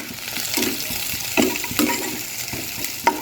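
Taro greens go into a pan of frying onions, giving a steady wet sizzle with occasional stirring scrapes and clinks, close and fairly loud throughout.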